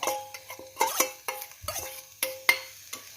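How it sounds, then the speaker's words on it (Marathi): A spoon stirs a spicy tender-coconut vegetable mix in a metal pan, making repeated clinks and scrapes in an uneven rhythm. Faint sizzling sits underneath, close and clear, with no talking. "आपण हे सर्व मिक्स करून घेऊया आणि त्याच्यावर हे खोबरं टाकूया"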